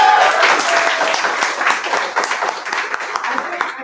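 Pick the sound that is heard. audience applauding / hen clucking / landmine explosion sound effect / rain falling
audience applauding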